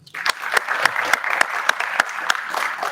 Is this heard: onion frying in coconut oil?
no